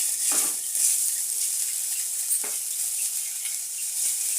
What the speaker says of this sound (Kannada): ಇದಕ್ಕೂ ಎಣ್ಣೆ 1 ಟೀ ಸ್ಪೂನ್ ಅಷ್ಟು ಹಾಕ್ಕೊಂಡು ಈ ಥರ ಫ್ರೈ ಆಗ್ತಾ ಇರುತ್ತೆ